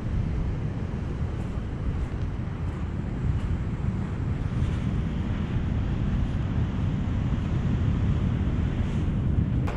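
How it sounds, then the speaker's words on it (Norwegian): North Atlantic ocean waves rolling onto a black sand beach in Iceland in the late evening, a continuous deep roar of surf with heavy wind buffeting the microphone and no voices. "Her har vi havet som kommer rett inn."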